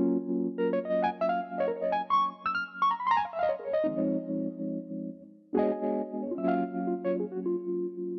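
An Electric 200A electric piano sound from the Tune Track Easy Keys instrument with no effect applied plays a dry melodic phrase of bright struck notes over sustained low chords, a pause, then another chord passage, with no talking.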